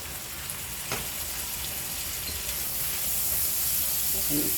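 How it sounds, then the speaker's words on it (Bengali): A small amount of spice frying in a pan, including cumin and turmeric with ginger and garlic: a dense, even sizzle throughout, close and steady, with a faint tap near the start. "এইটুকু মশলা কষাই নেব, যেহেতু তো আদা রসুন আছে সাথে"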